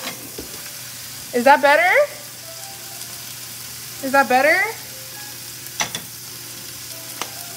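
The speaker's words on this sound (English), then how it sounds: "So much sizzle ASMR, we can't hear you well." Food sizzles steadily in a hot pan while a person speaks briefly twice over the frying.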